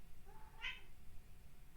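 A cat gives one short, faint meow in a quiet room, rising and falling quickly before the space goes still again.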